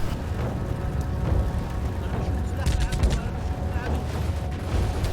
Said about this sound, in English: This big machine gun sounds awesome and can even take out a BTR.